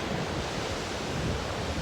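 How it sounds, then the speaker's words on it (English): Rough Southern Ocean surf washes steadily onto a wild, exposed beach, a continuous close roar of waves mixed with gusting wind buffeting the microphone. "here I am down at the beach. It's very wild and wavy"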